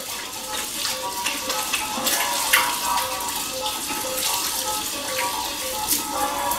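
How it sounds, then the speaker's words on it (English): Warm water runs steadily from a tap, a continuous hiss and splash with occasional changes as hands are washed under the stream before cooking. "let's wash our hands"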